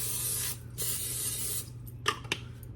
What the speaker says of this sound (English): I forgot to spray the bottom waffle. Okay, so spray it again.